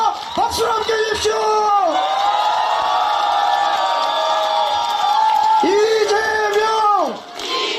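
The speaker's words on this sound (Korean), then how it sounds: "뜨거운 함성과 박수를 함께 해주십시오" A crowd at a South Korean political rally cheers and shouts loudly and close, in rising bursts of yelling that swell and fade, with a voice over a PA system between the waves.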